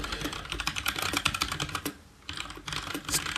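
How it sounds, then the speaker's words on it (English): Rapid, close clatter of typing on a computer keyboard, a dense run of keystrokes that pauses briefly and then resumes, with no talking. "Stop typing, man."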